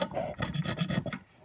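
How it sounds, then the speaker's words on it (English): A barrel bedding tool scrapes material from a rifle stock in short, close rasping strokes, several quick passes in a row that fade at the end. "and you scrape that material away"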